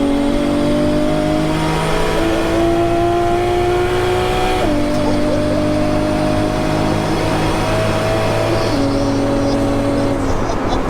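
A Nissan S13 with a 1JZ engine and M4 DCT gearbox revs and accelerates hard, the engine note climbing through quick gear changes, loud and close for about eleven seconds.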